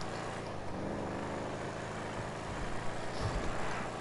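Vapid Dominator GTX muscle car engine in Grand Theft Auto 5, a continuous rumbling drone at moderate loudness that swells slightly near the end.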